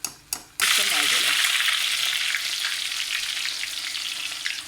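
Boiled, drained onions hit hot oil for mutton korma cooked in a clay handi. After a couple of light clinks comes a sudden loud burst of sizzling frying that settles into a steady crackle, fading slightly.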